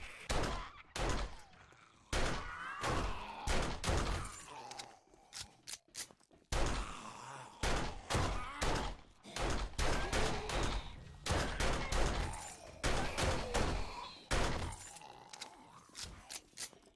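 Gunfire from a gun in the zombie survival game 7 Days to Die: a long run of sharp, loud shots, some single and some in quick bursts, separated by short gaps and mechanical clicks.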